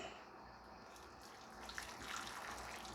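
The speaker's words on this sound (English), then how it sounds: "We're going to add our hot water to it." Hot water pours steadily into a bowl with a soft, continuous splashing hiss that swells slightly toward the end; quiet and close.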